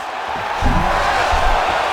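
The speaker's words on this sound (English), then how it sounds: "crowd pops as he gets out again" Arena crowd in the EA Sports UFC 5 fighting game, a broad roar of many voices that swells and pops loudly midway as a fighter escapes a submission, staying at a steady cheering level to the end.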